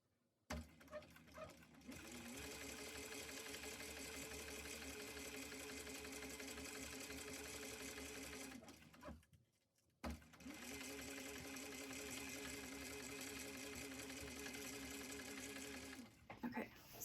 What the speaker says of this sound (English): we're just going to top stitch 1/8 of an inch along that one